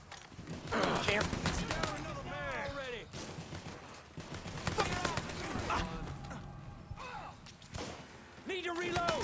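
Gunfire from the video game Mafia 3, sharp cracks and bursts repeating through the scene with someone talking and shouting over much of it.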